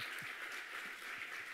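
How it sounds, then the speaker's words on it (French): Faint, steady applause from an audience at a French national award ceremony for a youth solidarity competition, a soft continuous patter of many hands that sounds fairly distant and fills the whole moment without a break. "C'est terminé, vous pouvez applaudir."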